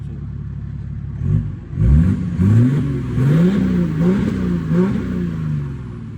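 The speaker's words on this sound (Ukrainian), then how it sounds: "Зараз почуєте, як ну, звучить дуже гарно ця машина." A car engine revs up several times in quick succession, rising and falling pitch, loud and close with no speech.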